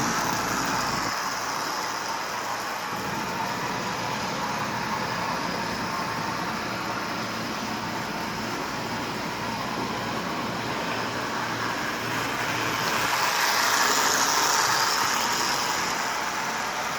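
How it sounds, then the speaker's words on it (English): A Marx 1998 diesel toy train runs around the track pulling a Lionel 3927 track cleaning car, giving a continuous even motor whir and rolling rumble that stays steady and close, swelling slightly near the end. "So I've got the Marx 1998 diesel. We're going to pull this around and see how it works."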